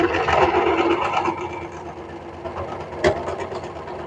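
A sewing machine runs steadily, stitching close to the edge of a handwoven, textured garment fabric with Stayflex on top, a continuous mechanical hum that eases slightly toward the end with a brief sharp click near three seconds.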